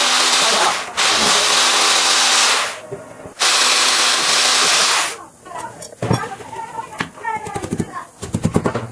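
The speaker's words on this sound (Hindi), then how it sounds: "यहाँ पर हम LT से होल मारेंगे दीवार पे" Hammer drill boring holes into a wall for mounting an inverter, two long loud steady whining bursts with a short pause between, then clattering and knocking as someone talks.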